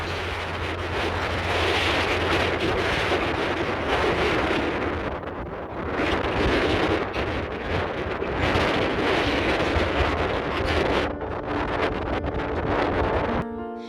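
Strong mountain wind on Babia Góra buffets the microphone continuously, a rough roaring gust that swells and eases without pause.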